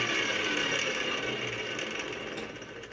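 Motor of a Sherline lathe set up as a wood lathe, spinning with a steady close whirring hum and no speech, easing off slightly toward the end.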